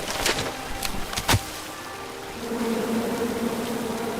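Angry bees in the video game King's Quest (2015): after a few sharp knocks and swishes, a steady, fairly loud swarming buzz rises and holds to the end.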